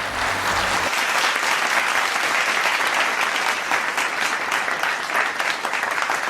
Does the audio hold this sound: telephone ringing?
no